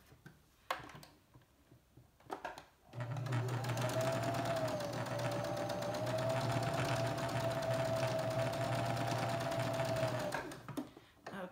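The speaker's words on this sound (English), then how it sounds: "Kind of sew those two together." Sewing machine running steadily for about seven seconds as fabric scraps are stitched together edge to edge, a continuous close motor hum and rapid needle chatter with brief quieter handling sounds before and after.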